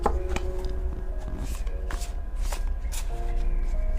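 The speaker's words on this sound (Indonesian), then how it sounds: "Untuk Sagittarius, aku akan tarikkan 3 kartu." Tarot cards being shuffled and drawn from a deck, a steady run of crisp papery flicks and slaps up close, with no talking.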